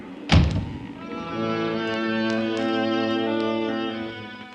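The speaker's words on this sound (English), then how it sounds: "I can't stand to hear a door banging." A single heavy thunk of a door banging aboard a ship in a typhoon lands near the start, followed by a sustained ringing, droning tone that lingers to the end.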